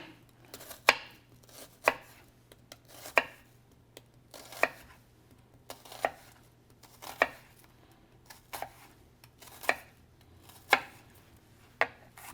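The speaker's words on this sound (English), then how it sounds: "We'll do the same with our other half of the onion." Knife chopping half an onion on a cutting board, about a dozen sharp, evenly spaced chops at a steady unhurried rhythm over a faint low hum, no talking.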